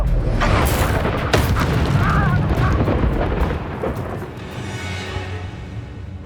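Spell impacts from the Descendo slam in Hogwarts Legacy land as a dense run of heavy booming thuds and crackling bursts, loud and close, with game effects layered over them. The din eases partway through into a lower rumbling tail.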